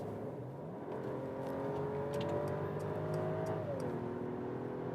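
Mercedes S500 six-cylinder in sports mode accelerating hard on a German motorway from about 100 km/h, heard from inside the cabin as a subdued, rising engine tone that shifts gear and climbs again, fairly quiet and smooth over road hum.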